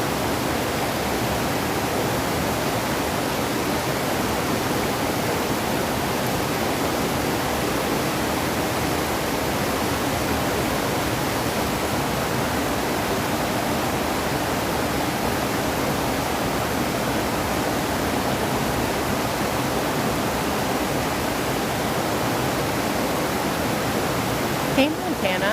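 Steady roar of a waterfall on a creek in Western New York near Rochester, a constant broad wash of falling water heard up close for the whole stretch, with a faint bump near the end.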